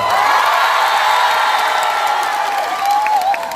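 A concert audience at a university venue claps and cheers loudly and continuously, a dense crowd roar with whoops and shouts that holds steady throughout.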